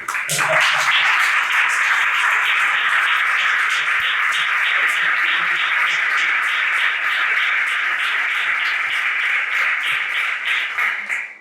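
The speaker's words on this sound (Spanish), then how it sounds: "Y yo le digo aplausos." Sustained audience applause at a flamenco studies gathering honoring a peña, a dense, even wash of many hands clapping that holds steady for about eleven seconds before tapering at the very end.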